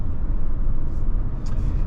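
A 2024 Subaru Crosstrek Limited with a naturally aspirated 2.5 liter flat-four drives along with a steady, loud low rumble of engine and road noise, heard from inside the car.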